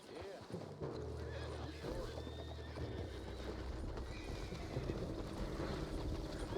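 A horse in the video game Red Dead Redemption 2 whinnies and snorts amid clip-clopping hooves and outdoor ambience, with people talking over it throughout.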